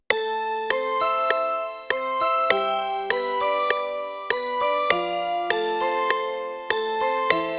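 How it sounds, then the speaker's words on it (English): Bright, tinkling light-bells sample in an Afrobeat loop plays a repeating melodic line, evenly paced and clear, with struck notes ringing out over a steady sustained tone. "I added this light bells to it. Let's solo that one alone."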